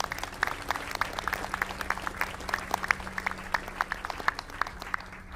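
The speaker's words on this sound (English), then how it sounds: "So I think a round of applause." Applause at the BSC Expo 2025 session, offered for the recording crews in the room: dense, even clapping from a seated audience that runs steadily for several seconds at moderate distance, with little speech.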